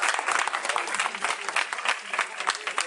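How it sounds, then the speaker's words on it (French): A festival audience applauds the crew of a short film at a thriller festival in the countryside, with a dense, lively burst of clapping, fairly close and sustained, with some voices among it. "ce serait vraiment sympa si vous pouviez applaudir mes camarades"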